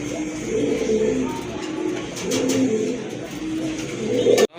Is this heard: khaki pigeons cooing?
yes